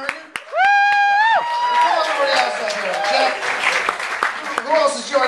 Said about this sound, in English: big round of applause for director James Nguyen